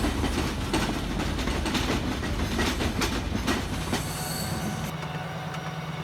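The Tista Express intercity train between Dhaka and Joydebpur runs loudly on the rails, with rhythmic clickety-clack from the wheels, some wheel squeal, and a steady close rumble that eases slightly near the end.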